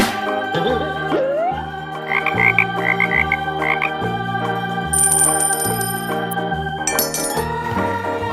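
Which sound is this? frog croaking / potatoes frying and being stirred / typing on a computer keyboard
frog croaking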